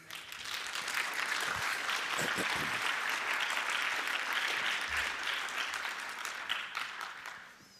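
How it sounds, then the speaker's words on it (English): Sustained warm applause from a conference audience welcoming a speaker at the Chaos Computer Conference, a steady dense roar of clapping for several seconds before tapering off. "Please have a warm applause for him"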